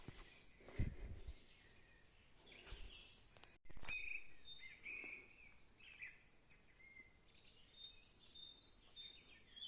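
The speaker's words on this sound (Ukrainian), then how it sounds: "Ви послухайте, як співають пташки." Faint birdsong drifts in from a distance, scattered chirps and short whistled phrases over a quiet outdoor hush with a brief rustle near the start.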